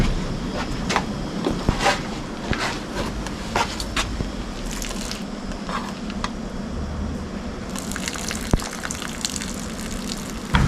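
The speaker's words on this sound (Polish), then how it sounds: "Makaronie trzeba odcedzić." Cooked pasta being drained, water gushing and splashing continuously with a few clanks of the pot, loud and close throughout.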